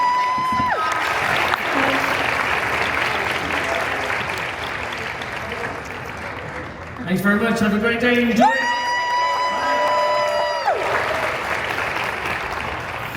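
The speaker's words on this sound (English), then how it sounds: "a big round of applause, everyone" A crowd at a Disneyland Paris fan event applauds steadily with scattered whoops and cheers, while a speaker talks over it in the middle.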